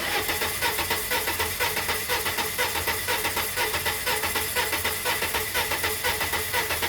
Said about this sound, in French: Vas-y, tu peux lancer le moteur.